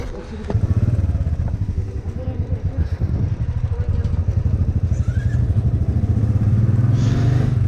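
A Benelli TNT 300 motorcycle engine runs steadily at low, unrevved idle-like pace, a loud close rumble with a throbbing low pulse that continues for the whole stretch alongside faint clatter.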